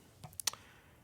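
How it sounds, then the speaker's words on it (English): A few sharp clicks from a slightly unbalanced, noisy computer keyboard, three or four quick keystrokes close by and fairly quiet, then silence. "This keyboard is like slightly unbalanced, so it's really noisy."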